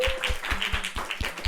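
A small group applauding a student council team, rapid, close claps that sound light and tappy, with no talk.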